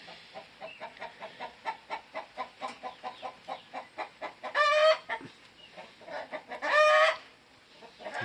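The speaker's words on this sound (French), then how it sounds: "on va aller voir les petits poussins" Brahma and Faverolles chicks and hens cluck in a rapid, steady rhythm on a small French farm, with two louder drawn-out calls rising above the pulsing clucks, close and clear with no voices.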